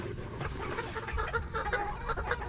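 A flock of chickens on a Philippine backyard game-fowl farm, stags and pullets, clucking in soft overlapping bursts at moderate distance, with no talk.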